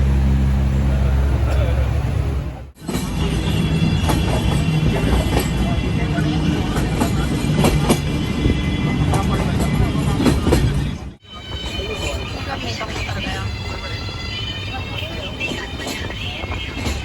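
Train rolling on rails, heard from inside a carriage in Jharkhand: a loud, continuous rumble with rhythmic wheel clatter and squeal, broken by two brief dropouts, with talk over it.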